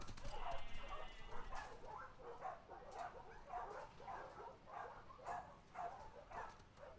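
Dog in The Last of Us Part II, panting and yipping faintly in a quick repeated rhythm with soft padding steps, heard low and distant in the game mix.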